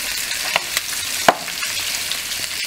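Mutton ribs in adobo with onion and chile brown in a pan, giving a steady, close sizzle broken by a few sharp utensil clicks, with no talking.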